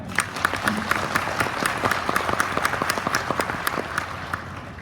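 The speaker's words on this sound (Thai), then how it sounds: "เราปรบมือให้เขาหน่อยดีไหม" An audience at a Thai-language talk breaks into sustained applause, many hands clapping in a dense, steady patter that carries on for several seconds without speech.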